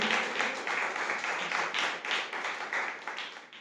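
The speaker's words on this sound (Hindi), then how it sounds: "क्या हम परमेश्वर को धन्यवाद दे सकते हैं? जोरदार तालियों से।" Congregation at a church service applauding together, a dense sustained patter of many hands clapping at moderate distance, fairly soft overall.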